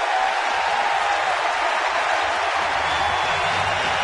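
A baseball stadium crowd applauding and cheering during a Giants game in Cincinnati, a broad, continuous wash of clapping and crowd noise that stays steady throughout.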